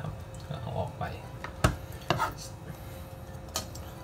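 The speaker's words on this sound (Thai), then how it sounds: "หั่นเป็นชิ้นบางๆนะครับหั่นแบบนี้เลยนะครับ" A knife cuts thin slices of Japanese pumpkin on a board, sharp distinct chops at irregular intervals, close and fairly quiet, with someone talking throughout.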